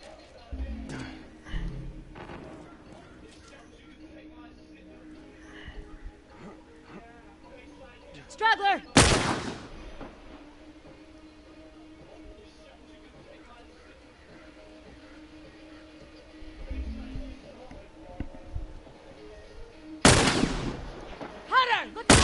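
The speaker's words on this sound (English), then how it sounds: "Who are y'all shooting at?" Gunshots in The Last of Us multiplayer, two sharp loud bursts spaced far apart against a quiet background, with faint game ambience and some talk between them.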